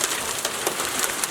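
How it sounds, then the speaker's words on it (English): Heavy hail falling in Armenia: a dense, even rattle of ice hitting surfaces, with sharper close impacts popping out of the steady wash and no talking. "this is really heavy hail"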